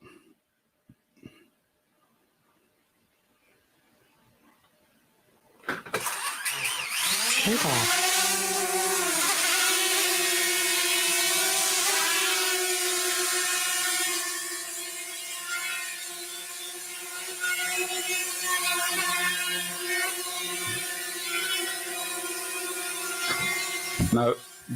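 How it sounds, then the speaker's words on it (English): A small camera drone flown indoors starts up after a quiet pause, then a loud, steady high-pitched propeller buzz holds, wavering slightly in pitch as it hovers and moves nearby. "because the noise of the drone is quite noisy"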